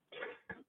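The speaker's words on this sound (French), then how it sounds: "Alors je tousse" A person speaking in a webinar coughs twice, close and clear: one longer burst followed by a shorter one.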